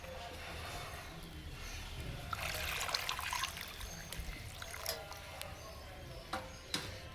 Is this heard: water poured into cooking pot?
yes